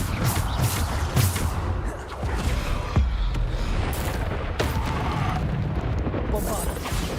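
Bombarda explosion spells in Hogwarts Legacy, a rapid run of booming blasts and crashing impacts layered over constant game noise and music, loud and dense with several distinct hits.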